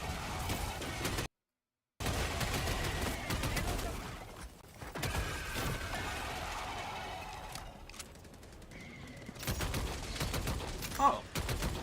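Gunfire in the shooter game Helldivers 2, with dense rapid crackling bursts of shots running almost continuously, a brief silent gap near the start and sharper louder reports toward the end.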